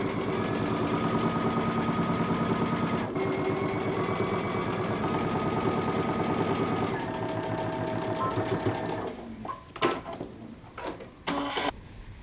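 A sewing machine runs a back seam on a jumpsuit, a steady fast stitching chatter that holds for about nine seconds, then breaks into a few short stop-and-start bursts near the end.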